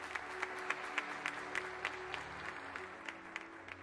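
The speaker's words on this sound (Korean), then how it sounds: "여러분 뜨거운 박수 부탁드립니다." Audience applause at a 2020 fintech awards night in Korea, following the presentation of appreciation plaques; moderate, scattered clapping with a few sharper claps standing out, fairly distant and steady throughout.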